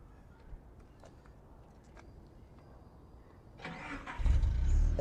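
A Datsun car engine cranks and catches in the last second, rising to a loud, steady running roar after a quiet stretch of faint background noise.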